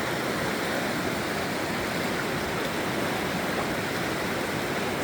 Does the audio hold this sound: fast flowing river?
yes